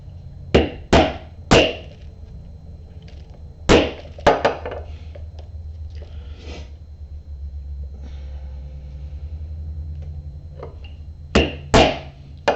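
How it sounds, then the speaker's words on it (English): A 1/8 inch hole punch is driven through leather for a café racer wallet, giving sharp close knocks in quick pairs and triplets separated by pauses, over a low steady rumble with no talk. "I'm going to take my 1/8 inch punch here"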